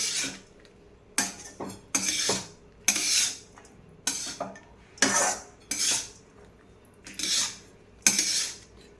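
A spoon mixing lemon rice in a metal vessel: repeated scraping and clinking strokes against the pot, about ten in a steady rhythm, close and clear with quiet gaps between.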